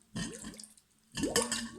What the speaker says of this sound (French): je vais faire rentrer l'eau dans le verre et je vais faire sortir l'air du verre. Et ça va faire des bulles.